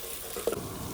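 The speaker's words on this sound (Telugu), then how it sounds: "పచ్చిమిర్చి, యాలుక్కాయలు, లవంగాలు ఫ్రై చేసేద్దాం." Green chillies, cardamom and cloves fry in a pan for chicken haleem, with a steady close sizzle and a brief stir in the middle.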